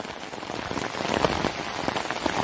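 Steady rain pattering densely on surfaces outdoors during a December storm, a continuous close hiss with scattered heavier drops and no voices.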